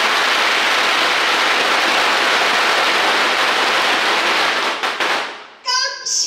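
Firecrackers going off at a Taiwanese temple festival evening: a loud, dense, continuous crackling barrage of rapid bangs that thins out near the end, followed briefly by a voice.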